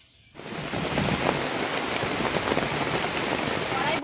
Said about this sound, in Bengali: বলতে বলতেই বৃষ্টি চলে আসছে